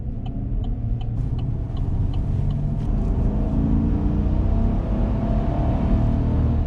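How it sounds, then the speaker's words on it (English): A 2019 Chevrolet Silverado Trail Boss pickup pulls away under acceleration, its engine a loud, steady low rumble that holds throughout with no speech. "this truck definitely feels like it takes off quicker than the previous generation"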